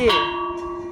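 A single loud bell strike rings out close by, its bright metallic tone lingering and slowly fading.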